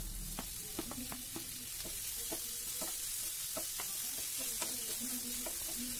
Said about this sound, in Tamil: ஒரு பெரிய தக்காளி எடுத்துருக்கேன், அதையும் வெங்காயத்தோடு போட்டு நல்லா வதக்கிக்கோங்க